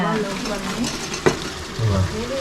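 Paneer and gravy sizzle steadily in a pan while being stirred, with scraping and stirring sounds over a constant frying hiss.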